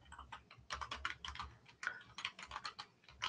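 Someone typing on a computer keyboard, quick uneven bursts of key clicks close by, with short pauses between runs of strokes and no voices.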